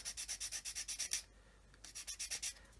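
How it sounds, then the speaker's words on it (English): A sanding stick is rubbed across a 1/32 scale plastic model aircraft part in quick, even back-and-forth strokes, about ten rasps, a pause, then another run, close and quiet. "What I want to do is just sand that"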